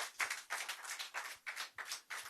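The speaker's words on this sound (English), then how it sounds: "Let's keep on clapping for him until he comes here." Faint, steady clapping from a conference audience, heard as evenly spaced claps in a regular rhythm that sound distant and sparse.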